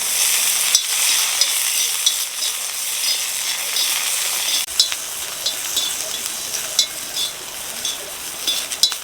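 Green chillies fry in hot oil in a village kitchen, a steady bright sizzle with scraping stir strokes and occasional clinks of the spoon against the pan, close and continuous with no talking.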